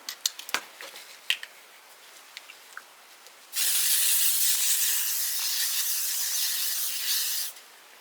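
A few small clicks and taps, then one continuous, close hissing spray of L'Oreal makeup setting spray lasting about four seconds before cutting off.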